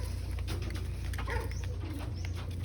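African lovebirds calling: a few brief, faint chirps and cooing notes at a distance over a steady low hum.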